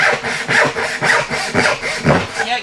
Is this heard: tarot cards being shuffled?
no